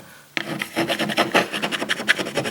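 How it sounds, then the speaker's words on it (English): A cloth or hand rubs hard across a surface to wipe off softened, dried duct tape glue, making a dense run of rapid rasping scrubbing strokes up close. "I'm going to wipe this off and then go to the oil."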